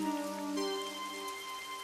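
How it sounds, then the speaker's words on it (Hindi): Heavy rain pours down at night in a rural village during a storm, a steady hiss of falling water under sustained tonal music, continuous and even without talking. "बाहर झमझम बरसात हो रही है।"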